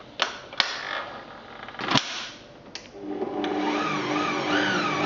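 An electric mixer blends Christmas cake batter with lemon zest and juice. A few loud knocks and clunks come first, then a steady, close motor whir runs to the end with no voices.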